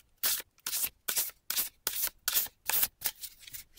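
Playing cards shuffled by hand for a card reading: about nine crisp, rhythmic riffling bursts in quick succession, close and clear, with no talking.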